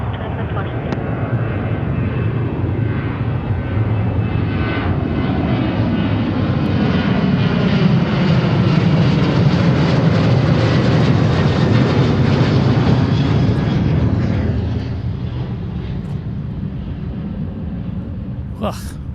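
Horizon airliner taking off from runway 34 right at Seattle-Tacoma, a loud sustained engine roar building over about fifteen seconds, then easing as it departs, with radio voices talking over it.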